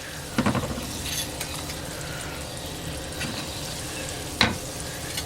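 Steak and green tomatoes fry in oil with a steady soft sizzle, broken by a few sharp utensil clinks and scrapes near the start and again toward the end.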